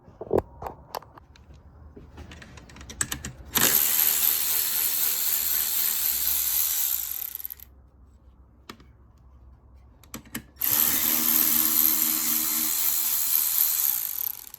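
A ratchet turns the 10 mm bolts on the V6 plenum of a 2008 Dodge Charger, giving rapid clicking bursts broken by pauses, with long loud stretches of fast ratcheting close by.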